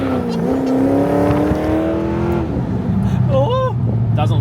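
A car engine revs and climbs through the gears, loud and close, its pitch rising and dropping with each shift, struggling in third, while people talk over it.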